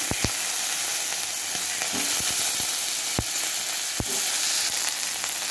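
Cumin paste, slit green chillies and chopped tomato frying in a pan for dal, a steady close sizzle broken by a few sharp clicks and taps of a spoon.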